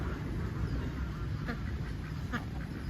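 Ducks quack a few times, faintly, by a park lake in Mexico, over a steady outdoor background of noise.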